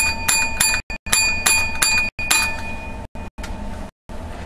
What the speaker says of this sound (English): That reading deserves 7 bells.